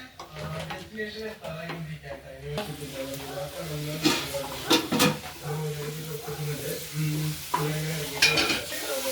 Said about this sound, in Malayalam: അത് നമുക്ക് ഇളക്കി കൊടുക്കാം നല്ലോണം നാരങ്ങ ഇട്ടിട്ട്